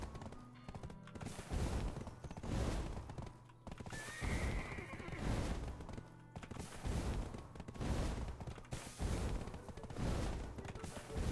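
Repeated horse whinnies over a steady drumming of galloping hoofbeats in a video game, loud and continuous with surges of noise, like a game soundtrack.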